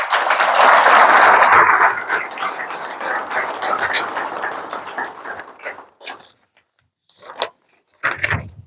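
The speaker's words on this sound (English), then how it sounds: "So a round of applause to Kayla, Jessica, Adrian, and Pemit" A round of applause at a graduation ceremony, loud clapping from the audience at first, then thinning out and fading to scattered claps and brief noises before stopping.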